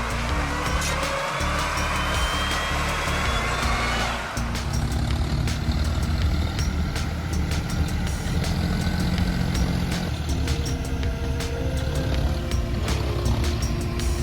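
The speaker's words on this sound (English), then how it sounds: "The 130-horsepower engine roared loudly." A 130-horsepower John Deere tractor carrying goods, stuck in mud on a road, runs its engine in a steady heavy drone with sharp clicks and knocks over it, loud and continuous, with no voices.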